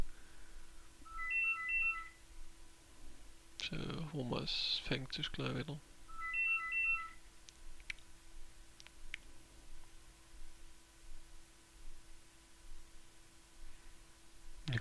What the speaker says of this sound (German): scheiß Telefon